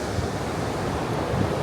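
Crashing waves on a rough North Devon shore, a continuous roaring surge of surf mixed with gusty wind noise, steady and close throughout, with no talking.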